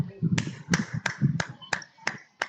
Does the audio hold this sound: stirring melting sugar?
no